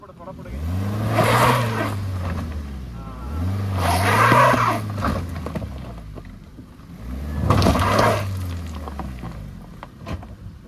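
A Maruti Swift hatchback struggles up an off-road slope near Karjat, its engine surging in three strained revving bursts separated by lulls, close and fairly loud, with people talking around it.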